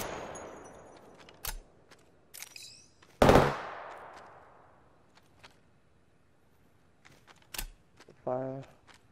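Gunfire in the Apex Legends video game: a few sharp, separate shots and short bursts spread across the clip, one much louder burst near the middle, with a voice talking quietly between them.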